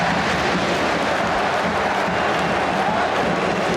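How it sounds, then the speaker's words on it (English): A large stadium crowd of French supporters at a women's football match in Le Havre roars in a dense, steady wash of cheering and applause, with no distinct peaks or pauses. "many French supporters have left their seats, standing up, cheering their side on"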